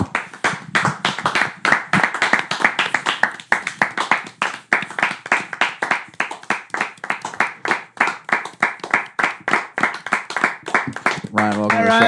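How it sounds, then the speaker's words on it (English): A small group claps for an arriving guest, with sharp, rapid, rhythmic claps close by for most of the stretch, while voices talk over the clapping. "Everyone just start clapping."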